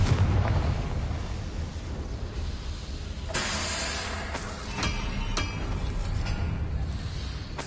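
Confringo fire spell blasts in Hogwarts Legacy, a few sharp bursts and booming impacts over a steady rumbling game background, moderately loud and close.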